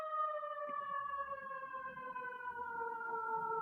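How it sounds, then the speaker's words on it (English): A siren wails steadily in the distance, a sustained tone that slowly falls in pitch, fairly faint and heard alone without talk. "a siren? Should I cut that out?"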